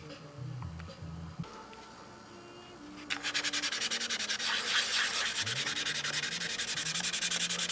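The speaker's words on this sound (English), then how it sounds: "because this is dried up really an extra day, it should sand out relatively easily" Rhythmic scratchy sanding of a dried clear coat on a Windy U Master 815, starting faint and then turning into a loud, steady back-and-forth rubbing that fills the rest of the clip.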